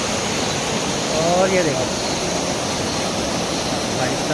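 Water flowing steadily in a stream at night in the hills of Himachal Pradesh, a continuous broadband rush filling the whole clip, with someone speaking briefly over it.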